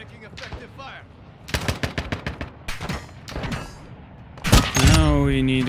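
Gunfire in the Call of Duty DMZ video game: bursts of rapid shots and single cracks come in clusters, ending in a loud, sustained blast, with a voice talking faintly at times.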